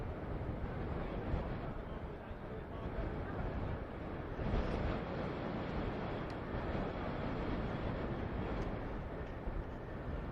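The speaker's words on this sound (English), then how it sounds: "I can hear engines running" Aircraft engines running at RAF Lakenheath air base, heard as a faint, distant, continuous roaring rumble with wind buffeting the microphone, steady for about ten seconds.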